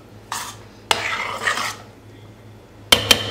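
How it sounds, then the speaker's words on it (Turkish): Several short scraping, stirring sweeps of a utensil mixing whipped cream powder in a bowl, separated by pauses, ending with two sharp clinks close up. "Şöyle bir karıştırayım."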